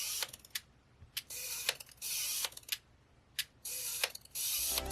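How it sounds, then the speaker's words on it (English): Quiet mechanical whirring and clicking in short bursts, the autofocus motor of a Canon EF 135mm f/2.8 Softfocus lens on an M50 driving gears back and forth several times with brief pauses between. "With the autofocus of this lens, it's actually pretty loud."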